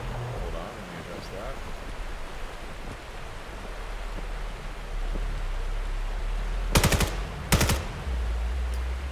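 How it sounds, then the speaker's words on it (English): Gunfire in the VR shooter VAIL during a competitive playoff match: two sharp, loud bursts of shots close together near the end, over steady game ambience with brief speech at the start. "Apologies for that being loud there on those gunshots."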